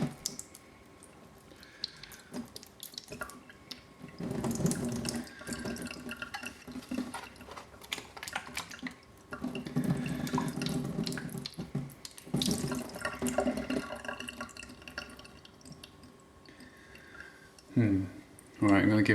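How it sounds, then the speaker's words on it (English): Deionized water is poured and splashed over a telescope primary mirror in bursts, uneven running and trickling with pauses between pours, and a person talking over parts of it. "Let's try rinsing it with some deionized water."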